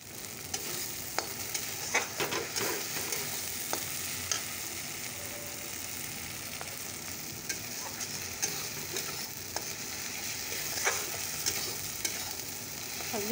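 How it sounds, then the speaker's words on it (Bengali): Spice paste sizzles and fries in a pan while being stirred and scraped, a steady close crackle with frequent small ticks and clinks of the spoon and no talking. "চলো মশলাটাকে ভালো করে কষিয়ে দিই।"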